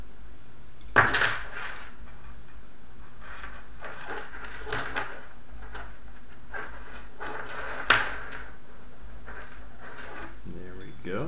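Small metal tools jangle and clatter in a few scattered bursts as someone rummages through a container for an Allen key, with quiet gaps between the sounds.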